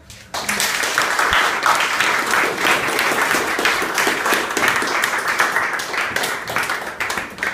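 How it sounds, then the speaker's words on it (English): After a poetry reading at Twelve Gates, an audience claps steadily and fairly loudly for several seconds, a warm, dense patter of many hands with no talking. "Let's give Mir another round of applause"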